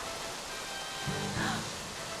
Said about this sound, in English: Is it raining? But it's so warm.